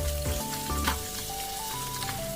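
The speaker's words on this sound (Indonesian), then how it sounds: "Sekarang kita lanjut goreng cumi. Nah harus hati-hati ya karena takut ngeciprat." Squid fry in hot oil, giving a dense, loud crackling sizzle with sharp pops and spits. Steady tones ring in the background through the brief burst.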